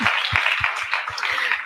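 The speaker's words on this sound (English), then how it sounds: "Can we kindly clap for him?" An audience at a women's dinner claps for a bishop, a dense near patter of many hands with steady low thumps falling in a loose rhythm, loud and continuous throughout.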